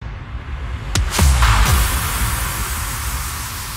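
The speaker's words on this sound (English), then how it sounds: "And then we have some more downlifter sounds, impact sounds, etc., white noise sweeps." A white noise sweep effect for a progressive house break rises into a loud, hissing wash after a couple of sharp impact-like hits, then holds as a steady broadband noise bed.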